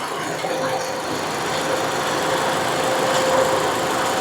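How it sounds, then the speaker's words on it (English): An AC compressor runs in the engine bay of a 2013 Toyota RAV4 with the engine idling, giving a steady, close mechanical hum and whir that holds at an even level throughout. "Compressor is now running."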